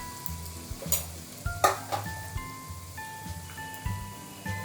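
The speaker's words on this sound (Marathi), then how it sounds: "तेल गरम झालं, त्याच्यामध्ये मोहरी, जिरं, हिंग, हळद" Mustard seeds, cumin, asafoetida and turmeric crackle and sizzle in hot oil, with sharp popping bursts over a steady low fry, close and moderately loud, no voices.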